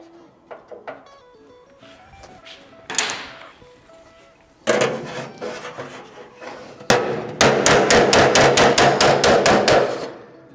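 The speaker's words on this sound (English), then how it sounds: "the slapping then sort of pushes it and relaxes the metal back down" A hammer slaps sheet metal during custom fabrication of a BOSS XC engine bay. Light scattered taps build to sharp metallic blows, ending in a rapid, loud run of about ten strikes close by.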